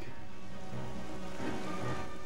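Steady rain pattering on the windscreen of a 1998 Citroën Xsara, a dense, even wash of drops held at a constant moderate level with no voices.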